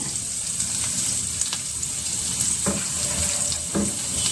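Pumpkin pieces sizzle and fry steadily in a hot pan for a pumpkin palya, a dense continuous hiss with a few faint clinks of a utensil, close and fairly loud with no talking.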